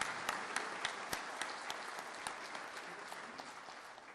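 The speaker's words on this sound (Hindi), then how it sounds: "आइए तालियों की गूंज से महामहिम राष्ट्रपति महोदया का स्वागत अभिनंदन करें" Audience applause welcoming the President of India at the Gujarat Legislative Assembly, a steady, dense clapping from a large hall crowd that holds at an even level throughout, with no voices over it.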